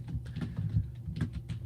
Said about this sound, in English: while he's typing that